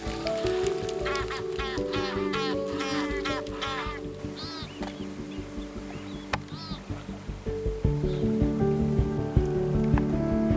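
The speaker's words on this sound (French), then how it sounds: "il faut que Biclou s'approche des oies pour les faire envoler" Flock of geese near the canals of the Marken peninsula in the Netherlands, honking repeatedly and growing louder as they take off, with rising wingbeat and water noise in the final seconds.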